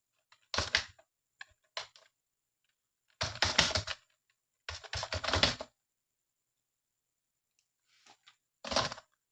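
Bursts of typing on a computer keyboard, close and crisp, in short clusters of key clicks separated by silent pauses, with no talking.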